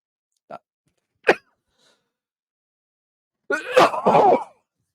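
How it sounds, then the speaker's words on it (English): A couple of short, sharp coughs, then a harsher burst of coughing and throat-clearing, close by. "I've just had a coughing fit"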